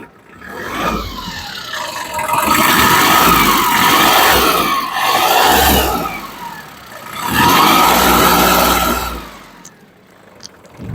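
A Yanmar D228 small tractor diesel engine runs steadily and loud nearby, its revs rising and falling in a few broad surges before dropping off at the end.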